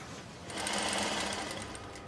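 A domestic sewing machine runs steadily for about two seconds, a dense mechanical whirr that swells slightly after the first half second and holds close and even, with no talk over it.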